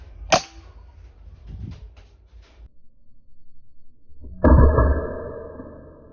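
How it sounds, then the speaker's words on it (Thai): Shots fired at birds in a backyard: one sharp close crack near the start, then faint rustling, followed by a louder thud with a ringing metallic tone that lingers. "ยิงทีละตัวเก็บทีละตัว"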